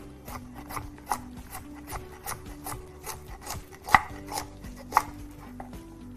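A knife chopping food on a wooden board in a home kitchen: quick, irregular taps at close range, a few landing sharper and louder, with soft scraping between strokes and no talking.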